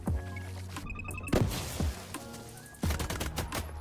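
Pistol shots fired at leeches in The Last Caretaker, a few sharp reports at an uneven pace over game ambience, with no talking.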